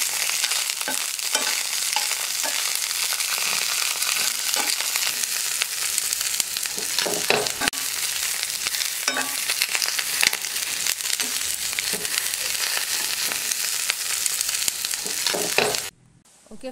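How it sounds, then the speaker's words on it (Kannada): Green chillies fry in oil in a pan for ladies finger chutney, giving a loud, steady, close crackling sizzle that runs without a break for about fifteen seconds before stopping abruptly. "ಹಸಿ ಮೆಣಸಿನಕಾಯಿಗೆ ಎಣ್ಣೆಯನ್ನ ಹಾಕಿ ಚೆನ್ನಾಗಿ ಹುರಿಬೇಕಾಗುತ್ತೆ"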